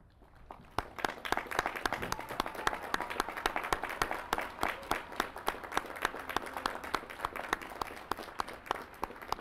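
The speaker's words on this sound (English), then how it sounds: "pay tribute to your service with a round of applause" Graduation commencement audience clapping in tribute to veterans as they stand, a steady crowd applause with sharp individual claps cutting through, moderately distant and continuing throughout.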